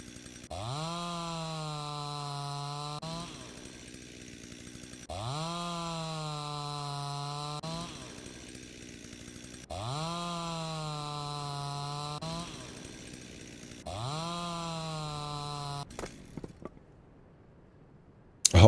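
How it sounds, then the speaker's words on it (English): A chainsaw in the video game Rancher: A New Life saws wood in four long, loud bursts with short gaps between them, each a strong harmonic engine whine, then it stops and a few faint clicks follow. "Let's pull out the chainsaw and let's saw."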